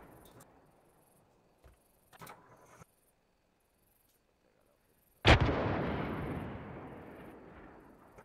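A single heavy artillery blast booms in a military video game after near silence and a few faint clicks, then rolls out into a long, loud rumbling decay.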